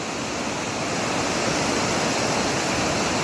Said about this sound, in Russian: Такая река белая.